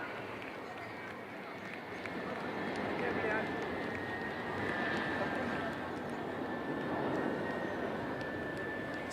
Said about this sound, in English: அடுத்த வரிசையில் IL-78 MKI மற்றும் 2 மிராஜ் 2000 ஆகியவை உள்ளன.